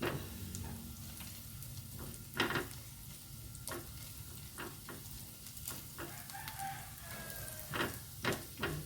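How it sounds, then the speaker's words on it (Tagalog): Garlic and marinated pork sizzling in a hot pan for chopsuey, a steady close hiss with sharp scattered spits and pops as the oil splatters, and occasional scraping stirs; a rooster crows faintly in the background. "Medyo lumilipad-lipad yung ating bawang. Talsik."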